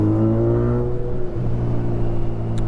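A Kawasaki Ninja 1000SX fitted with a Black Widow decat exhaust idles and then blips its throttle, a loud, close engine note that stays continuous throughout.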